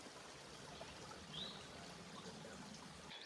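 Water from a creek or spring trickles and pours steadily as it is drawn, a faint continuous gurgle close by with no voices.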